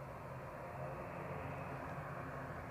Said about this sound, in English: Now we've got a couple of planes, ATR in the background. So prepare for a bit of turboprop noise.